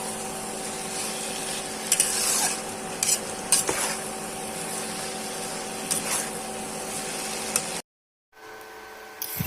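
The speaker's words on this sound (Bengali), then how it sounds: "বাঁধাকপির মধ্যে যে রসটা থাকে সেটা ভালো করে নাড়াচাড়া করে শুকিয়ে নেবো" A spatula stirs cooked cabbage and potato in a sizzling pan, a continuous frying hiss punctuated by scraping strokes and clinks, with a short gap near the end.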